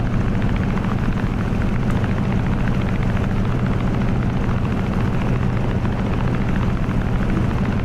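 An F6F Hellcat's piston engine in the MSFS 2020 flight simulator drones loud and steady during the landing approach with the gear lowered, a dense, unbroken rumble that holds from start to finish with no talk.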